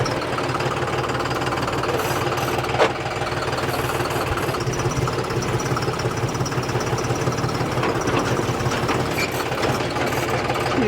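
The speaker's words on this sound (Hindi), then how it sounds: "ये मैं ट्रैक्टर को करता हूँ बैक" A John Deere tractor engine runs steadily while the tractor reverses, a loud, close, continuous diesel knocking rumble with a brief clunk partway through and no voices.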